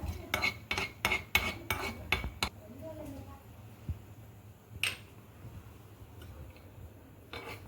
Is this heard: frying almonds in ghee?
yes